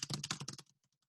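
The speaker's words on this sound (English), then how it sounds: "I'm double typing here" Quick burst of typing on a computer keyboard, several rapid keystrokes up close, then a few sparse, faint taps trailing off.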